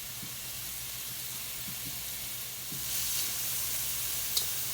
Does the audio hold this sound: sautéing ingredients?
yes